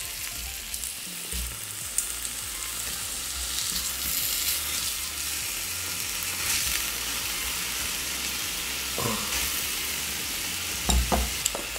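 Korean beef rib-eye cap sizzling on a grill: steady close frying crackle and hiss throughout, with occasional louder pops and utensil clicks, and no talk.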